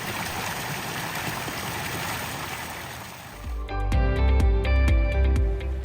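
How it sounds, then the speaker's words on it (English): Water from patio fountains trickles and splashes steadily into an outdoor pool, a continuous near, moderately loud wash that gives way to a quieter, more open trickle with low music underneath. "I love listening to the sound of the water trickling into the pool."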